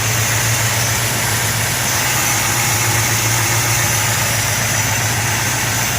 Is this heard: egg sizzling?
no